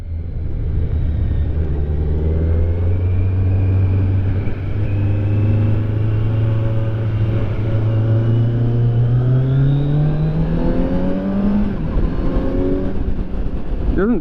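A Kawasaki Z900 motorcycle engine on a demo ride, loud and close, rising steadily through the revs with gear shifts and a dip near the end, no talk over it.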